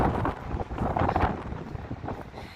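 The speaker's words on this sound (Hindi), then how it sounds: "हवा की आवाज़ सुन रहे आप?" Wind gusting outdoors on a rainy day, a steady broadband rush with buffeting across the microphone, fairly loud and continuous with no voices.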